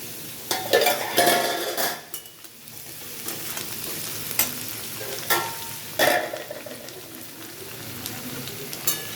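Potatoes and pointed gourd fry in a pan with a continuous sizzle, broken by repeated scraping strokes of a spatula against the metal as the pieces are stirred.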